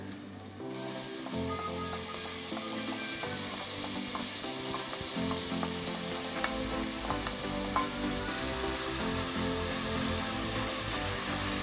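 A frying pot for rosecoco bean stew sizzles after tomatoes go in; a quiet start gives way to a steady hiss with scattered stirring clicks that grows louder near the end.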